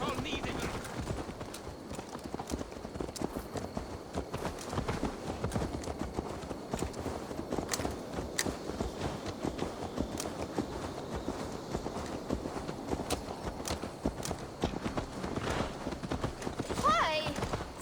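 Hooves clip-clop steadily from a horse in Assassin's Creed Valhalla, a dense patter running the whole stretch under steady ambient noise and occasional voices.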